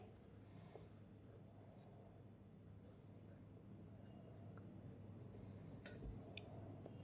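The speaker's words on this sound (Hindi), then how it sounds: "तो सबसे पहले हम दिस नंबर को लिख लेंगे यहाँ पर" Pen or pencil writing numbers by hand on paper, soft continuous scratching strokes close by at low level, with faint background hum and occasional small clicks.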